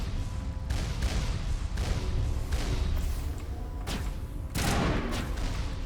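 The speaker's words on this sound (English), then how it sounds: "They're shooting at some enemy down there." Sustained gunfire from enemies in Mass Effect, a dense crackle of shots with heavier booming bursts, loud and continuous throughout with no talk over it.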